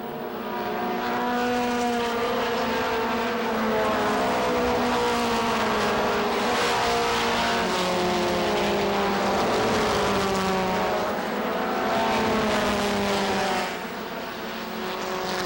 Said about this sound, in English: Anaki into some lap traffic, putting the 42 of John Kiley down a lap.